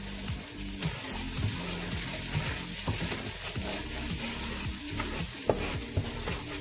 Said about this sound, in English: Make sure you are stirring very fast so it doesn't get burnt